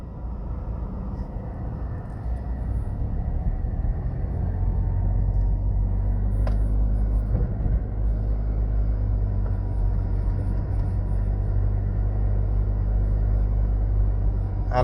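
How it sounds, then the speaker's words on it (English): A car drives toward Norman Manley International Airport in Jamaica, with a steady low engine and road rumble that swells after the first couple of seconds and holds, heard from inside the vehicle. "Alright, so we're going to drive out to the airport now."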